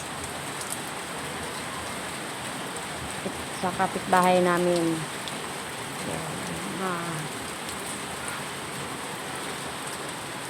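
Heavy rain pours steadily as a dense, even hiss across the whole span, with a brief voice speaking in the middle over the downpour.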